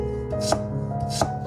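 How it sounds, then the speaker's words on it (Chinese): A kitchen knife cuts a peeled sweet potato into thin slices on a board, giving two crisp, close chopping strikes about half a second apart over a background hum. "首先準備一根紅薯，刮去外皮，清洗乾淨，再切成薄片"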